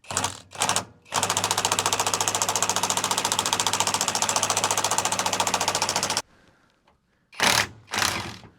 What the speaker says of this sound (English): All right, I got my Hercules brushless impact.